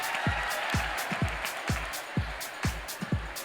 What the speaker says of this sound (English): A big round of applause for Ms. Nishit Chowdhury.